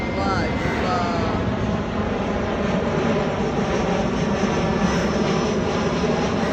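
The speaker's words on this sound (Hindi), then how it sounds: "कोई जहाज़ की आमद है" A fixed-wing airplane passes overhead in the morning sky over Pakistan, a steady loud engine roar sustained throughout, with excited voices talking over it.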